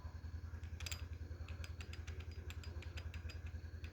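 A Yamaha RX King motorcycle engine runs at idle with a fast, even low throbbing pulse, overlaid by light mechanical clatter and ticking, with a brief rattle near the start.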